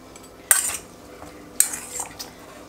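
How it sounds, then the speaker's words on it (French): Utensils clink against a bowl while an antipasti salad with cubed parmesan, mozzarella and black and green olives is tossed, two sharp scrapes and a few soft knocks, close and otherwise quiet. "on commence par déjà mélanger une première fois ça"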